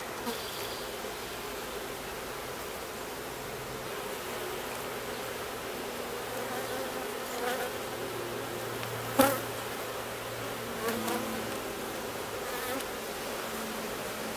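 Honeybees buzzing around an open hive while colonies are combined by the newspaper method: a steady, close, dense hum of many bees, with a few faint knocks from handling the hive.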